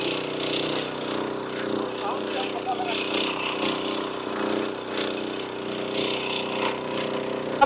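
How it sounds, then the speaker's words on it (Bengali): A Heavyator 7HP power tiller drives an 8-foot rotavator through a field, its engine holding a steady, loud, rough drone with constant churning and no letup. "আট ফিটে রোটাভেটার কত সুন্দরভাবে চাষ হচ্ছে একটু দেখুন"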